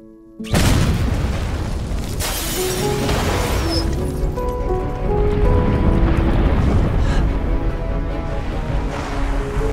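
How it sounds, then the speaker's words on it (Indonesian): A sudden loud bomb explosion booms in, followed by a long roaring, rumbling wash of debris and noise that stays loud throughout. "Ketika lebah hinggap, bom pun meledak, melempar rumah lebah ke udara."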